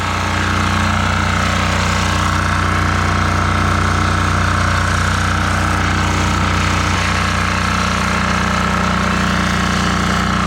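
A 5000W diesel generator engine runs loud and steady, a constant heavy rumble with a rattling mechanical edge throughout.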